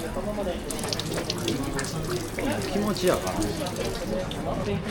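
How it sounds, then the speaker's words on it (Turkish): Water runs and splashes as hands are washed at a temple purification basin in Tokyo, a continuous trickle with voices murmuring nearby. "Ben de şimdi elimi yıkayacağım."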